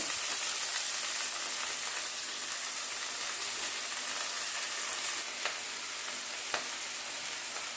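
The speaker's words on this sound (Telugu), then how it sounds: "ఇందులోనే ఉల్లి తరుగు వేసుకొని అంతా కలిసేటట్టు కలుపుకోవాలి" Chopped onion stirred into a frying egg curry with spring onion greens, a continuous bright sizzle with occasional spoon knocks and scrapes, close and steady with no talk.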